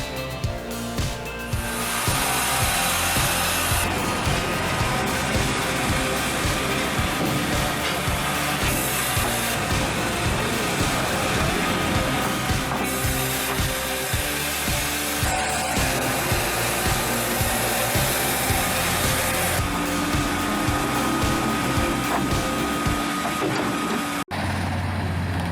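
An HTZ 1200 woodworking machine strips the rough crust from wood, giving a loud, steady grinding roar with a dense rasping texture that holds for the whole stretch, with brief pauses near the start and end.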